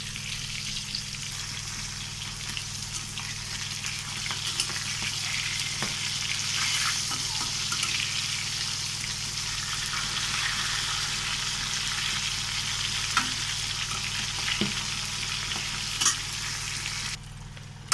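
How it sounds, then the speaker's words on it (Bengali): Pangas fish pieces fry in a hot pan as they are turned, a steady close sizzle running throughout with occasional soft clinks and scrapes from turning. "মাছগুলো ভালো করে লাল লাল করে উল্টে পাল্টে ভেজে নিচ্ছি।"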